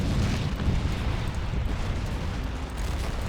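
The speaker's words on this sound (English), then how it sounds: "Grenades falling on our tanks." Grenades exploding on tanks in a video game battle, a dense, continuous low rumble of blasts and booms, heavy and sustained without clear gaps.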